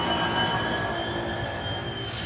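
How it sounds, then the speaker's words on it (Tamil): Train noise at Old Delhi railway station, a steady rumbling hum with a faint high metallic squeal from the wheels, at moderate distance with no voices. "டெல்லி ரயில் நிலையம்"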